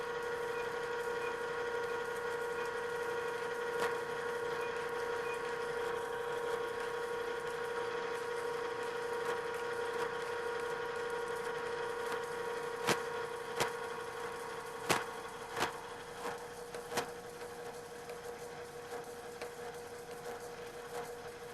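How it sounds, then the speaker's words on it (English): A drill press bores through a metal part, holding a steady mechanical whine with a tonal hum throughout, then a run of sharp clicks and knocks near the end as the bit breaks through and is withdrawn. "That's the point where it broke through the other side of the part, proceeded a little further, and now pulled the drill back out of the part."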